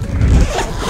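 A number 10 zipper, the largest size made, is pulled along the full-length front pocket of a Samsonite Silhouette Sphere II 21-inch spinner upright suitcase, giving one close, continuous rasping zip just under a second long.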